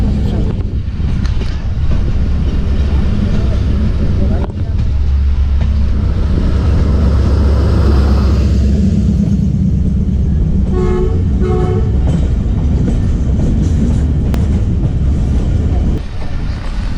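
The Shalimar Express passenger train, just leaving Bahawalpur station, rumbles steadily along the rails with wind buffeting the microphone; a brief horn toots partway through over the continuous low roar.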